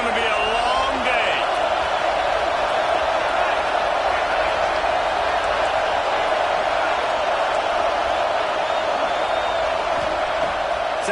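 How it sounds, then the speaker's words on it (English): Dense, roaring crowd noise fills a college football stadium at Washington versus Florida, sustained and loud throughout without letting up. "This crowd, full throat, spreading the eardrums and letting them know it's going to be a long day."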